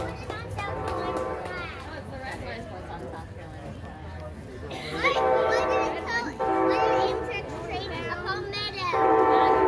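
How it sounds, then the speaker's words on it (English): Amtrak Palmetto No. 90, led by two Charger locomotives, rolling through a station on Train Day, a steady rumble with horn blasts rising over it and people talking nearby. "right now coming through on track 2, we have the Palmetto number 90 from Savannah, Georgia, going to New York"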